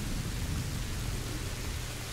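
Steady heavy rain pours down at a gloomy castle in the video game A Plague Tale: Innocence. It makes a dense, continuous wash of hiss with a low rumble underneath and no voices.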